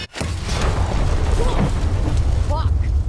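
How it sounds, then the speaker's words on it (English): A loud explosion in Dead Island 2 booms abruptly and rolls into a sustained roar of flames and debris, with a voice shouting briefly over it. "No more explosions!"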